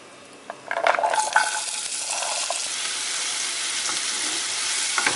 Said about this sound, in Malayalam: നമ്മൾ ആ പാനിലേക്ക് തന്നെ കുറച്ച് എണ്ണയും കൂടി ഒഴിച്ചിട്ടുണ്ട്. ഇതിലേക്ക് നമുക്ക് സവാള ഇട്ട് കൊടുക്കാം.